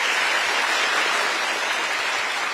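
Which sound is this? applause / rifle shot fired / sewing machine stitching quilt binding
applause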